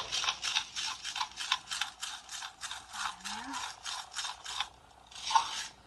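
Soft onion bread dough being mixed with salt by hand, a rapid, even run of scraping, rasping strokes close by, about three per second, broken by a short pause near the end, with no talk.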